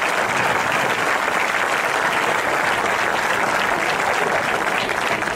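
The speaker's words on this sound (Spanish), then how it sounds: "un aplauso para nuestro teniente alcalde" A crowd at a youth football club's team presentation applauds the deputy mayor, a loud, dense, continuous burst of clapping that holds steady throughout.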